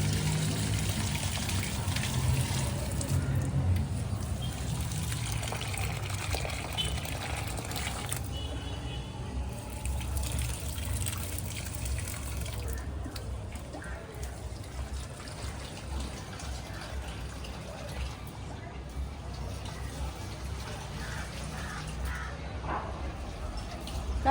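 Chilli plants in a garden being watered, a continuous broad gushing and trickling of water running the whole time, steady and fairly close, with faint background noise.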